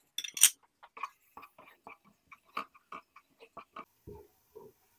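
A spoon stirs grated garlic through half a cup of cooking oil in a pot, giving a steady run of light, close scraping clicks and taps at an uneven rhythm, with no talking.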